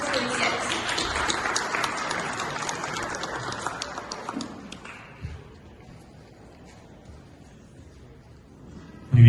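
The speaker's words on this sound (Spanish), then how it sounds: "Brindemos un fuerte aplauso al doctor Omar Kochalski Montesinos" Audience applause at a legal conference, a dense burst of many hands clapping that fades away over several seconds and is followed by quiet room tone.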